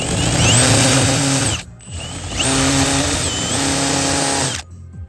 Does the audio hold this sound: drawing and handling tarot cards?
no